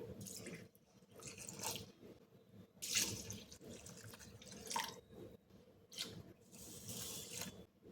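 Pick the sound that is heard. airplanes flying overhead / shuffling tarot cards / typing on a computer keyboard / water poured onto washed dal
water poured onto washed dal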